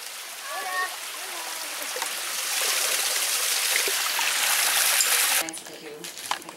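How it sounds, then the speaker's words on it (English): Mountain stream rushing steadily over rocks, close and loud, swelling slightly before cutting to a quieter stretch of trickling water near the end. "we're actually going to drink water from this stream here"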